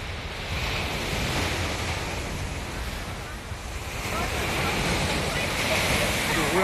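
Surf breaking steadily along a seaside shore, a loud continuous wash of waves with some wind rumble, swelling slightly toward the end.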